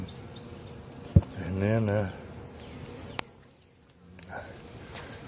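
Bees buzzing around newly set-up beehives, with one close, wavering buzz passing by over a low outdoor background; someone speaks briefly.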